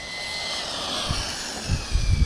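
A DeeRc 1217 RC car motor runs up to full throttle, giving a steady, loud electric whine with a few low thumps toward the end.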